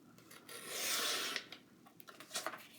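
A paper trimmer slices through a sheet of patterned scrapbook paper, its blade making one smooth rasping swipe, followed by several lighter scrapes and taps as the paper shifts, close up and with no speech.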